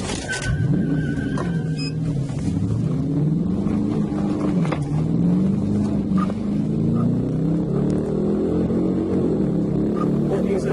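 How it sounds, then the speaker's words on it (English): A Dodge Challenger speeds during a high-speed police pursuit, its engine roaring loud and near with rising and falling pitch as it accelerates, continuous throughout. "The driver led troopers on a high-speed pursuit for about 7 miles westbound on Cortez Boulevard"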